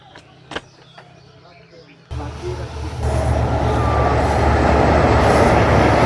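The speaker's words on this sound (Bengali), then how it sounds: "মাথার উপর দিয়ে ট্রেন যে ছুটে চলা" A train runs overhead on a bridge above the Kumar river at Sujan Badiyar Ghat. After a quiet riverside opening with a few clicks, a loud, broad rumble sets in suddenly and grows heavier as the train passes close above.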